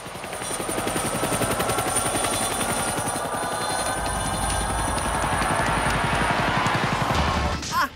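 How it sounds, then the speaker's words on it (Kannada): A helicopter's rotor chops in a fast, steady rhythm, loud and close throughout, with a rising whine near the end. "ಹೆಲಿಕಾಪ್ಟರ್."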